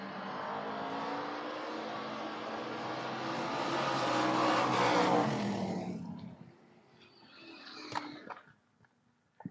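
Drag race at the 2023 FRBR Door Wars, a Camaro against a Monza: a loud, sustained engine roar builds and peaks, then fades away over about six seconds, followed by quieter distant mechanical rumbles and brief revs.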